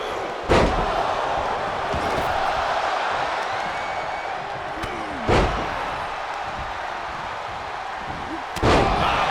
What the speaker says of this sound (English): Backdrop suplex. What a high angle right across the shoulders.